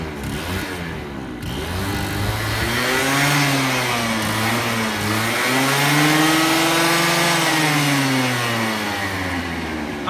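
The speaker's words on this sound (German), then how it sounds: "Ich starte mal den Motor." An Explorer Race GT50 scooter engine idles, then revs up and down in loud, rising and falling sweeps. It stays close and continuous for the whole stretch, with no talking.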